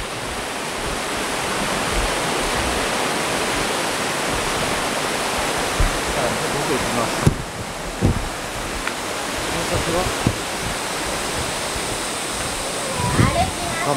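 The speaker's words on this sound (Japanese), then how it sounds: "確かに滝がありそうな" A waterfall at Kawazu Seven Falls roars as a broad, steady rush of falling water along a river, with a person talking briefly over it.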